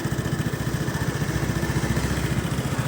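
Close, steady Vespa LXV scooter engine running with a fast, even putter and a slight rattle, unbroken throughout the short stretch.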